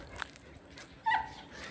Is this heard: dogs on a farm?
yes